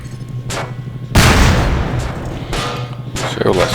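A mounted shelling gun in Half-Life 2: Lost Coast fires heavy booming shots, one loud blast followed by sharper reports, over steady background hum and faint talk.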